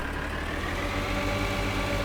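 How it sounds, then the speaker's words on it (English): Tractor mower engine in Farming Simulator 2013 runs as a steady, continuous low drone with a broadband mechanical hum, holding an even level throughout with no talk over it. "we can finally turn the mower on"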